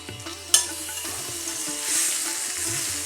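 Boiled taro leaves dropped into a pan of mango frying with whole spices, a sharp clatter at the start, then a close steady sizzle with stirring scrapes.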